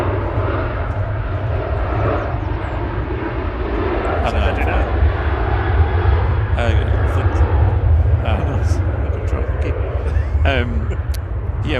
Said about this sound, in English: So we're departing to Chambéry now, GFDZY 737-800